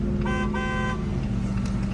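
Car horn honking at a red light, two bursts with a steady harmonic tone over a constant low road and engine rumble, close and loud.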